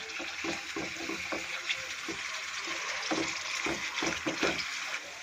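Spice masala with ginger and garlic sizzles and sputters in oil in a pan, a steady frying hiss with irregular crackles and stirring scrapes, close and continuous.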